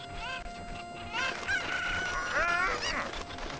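A chicken crows in the video game The Legend of Zelda: Ocarina of Time in Kakariko Village, a single bright, warbling cock-a-doodle-doo heard close over a faint ambient background.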